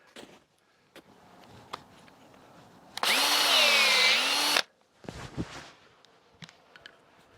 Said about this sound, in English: as soon as you drill your tap hole and pull the drill out